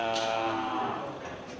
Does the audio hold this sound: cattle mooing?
yes